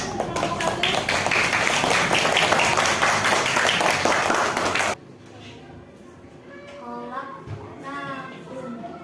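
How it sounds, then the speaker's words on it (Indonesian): Classroom audience applause, a burst of dense clapping from many hands for about five seconds that stops abruptly, followed by children talking softly. "terima kasih tepuk tangan."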